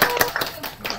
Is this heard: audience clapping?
yes